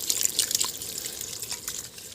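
A litre of water is poured into a pot for a village-style crab curry, producing a close, steady splashing trickle with light dripping accents and no speech.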